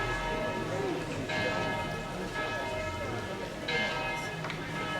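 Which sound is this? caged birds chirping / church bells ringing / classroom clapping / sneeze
church bells ringing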